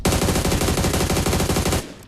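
Automatic gunfire in the mobile game PUBG Mobile: a loud, rapid burst of evenly spaced shots that runs for nearly two seconds before cutting off abruptly, with no voices.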